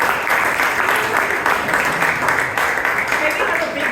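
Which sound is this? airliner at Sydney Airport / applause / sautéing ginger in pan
applause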